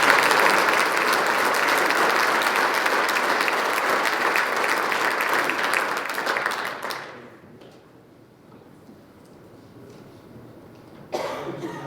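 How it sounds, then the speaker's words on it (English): Applause at a high school football awards night for a player, dense and steady for about seven seconds, then stopping abruptly into quiet room tone with a brief burst of noise near the end. "Let's bring him up for a quick round of applause to Zion."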